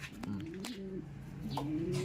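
An injured bird, likely a dove or pigeon, gives soft repeated coos, two short cooing phrases close by in a quiet setting.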